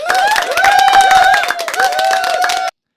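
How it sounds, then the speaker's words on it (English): A canned crowd-cheer effect fired from a soundboard, a dense burst of cheering and whooping voices lasting nearly three seconds at steady loudness, then cutting off abruptly into silence. "So right here I have a crowd cheer, so it's in green."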